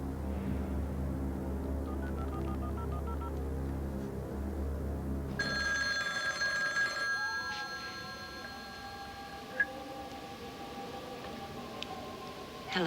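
A telephone rings in an indoor setting, with a steady tonal ring that starts partway through after a low hum fades out, fairly faint and heard alone without talk.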